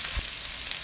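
A sweet potato and Swiss chard hash fries in a pan, giving a steady, close, even sizzle with no pauses.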